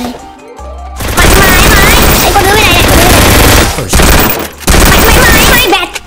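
Bursts of team gunfire in the Free Fire battle royale game, loud and dense, with sustained automatic volleys and a short break before firing resumes. Voices are mixed in underneath.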